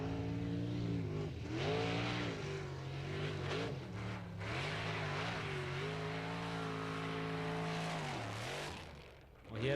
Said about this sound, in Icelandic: Hann heyriði aflið í þessum bíl.